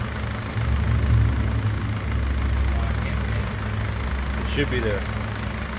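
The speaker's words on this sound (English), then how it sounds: "I can hear all the tickies and noise in the motor." A 2005 Hyundai Accent with a newly fitted backyard exhaust idles steadily in a low, continuous rumble, a faint ticking in the motor underneath, while someone talks briefly over it.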